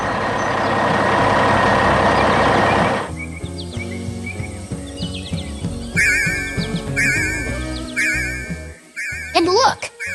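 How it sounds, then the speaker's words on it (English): A full green vacuum truck rolls out of a basement construction site. A loud engine roar cuts off after about three seconds, followed by clanks, reversing beeps and chirpy tones. "The truck is full and rolling out."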